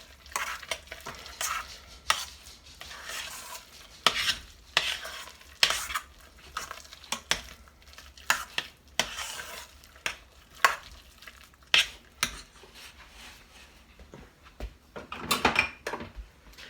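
Rustic mashed potatoes being worked by hand for an old-fashioned meatloaf dinner, with repeated soft squelching thumps and scrapes against the pot in an irregular rhythm, fairly close and clear, with no one talking.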